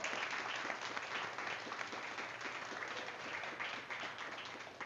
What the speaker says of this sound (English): Can you guys give a round of applause to these ladies who like share them?